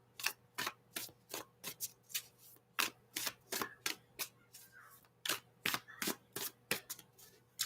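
Tarot cards shuffled in quick repeated riffles, a steady run of crisp, close slaps and flutters repeating about twice a second throughout, with a faint low hum underneath.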